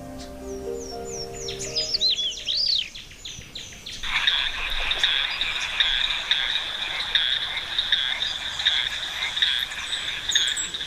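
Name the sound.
frogs croaking in Madagascar rainforest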